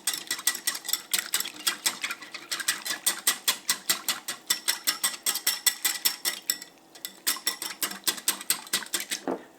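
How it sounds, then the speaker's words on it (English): A whisk beats a milk mixture in a bowl for a make-ahead Thanksgiving side, giving brisk, evenly spaced clicking strokes close by, with a short pause midway before the rhythm resumes. "we're gonna whisk this together until it runs smooth"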